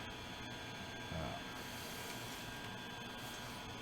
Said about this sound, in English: Not a quiet printer, I will tell you that much.